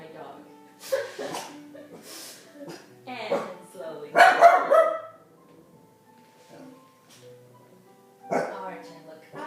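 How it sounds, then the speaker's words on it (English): A dog barks several times in a room during a yoga stretch session for dancers, sharp loud barks scattered across the clip between a woman's calm spoken instructions. "That's my dog."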